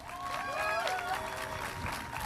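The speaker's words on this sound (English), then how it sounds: "Let's give a big round of applause." An audience at a school competition awards ceremony gives a round of applause, a continuous clapping wash mixed with voices and a few cheers from the crowd.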